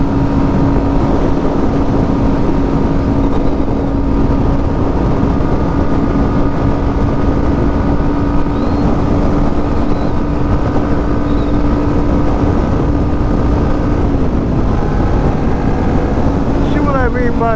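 A motorcycle cruises at about 73 mph on an interstate-bound highway, its engine humming steadily under loud, constant wind roar, with a rider's voice coming through intermittently.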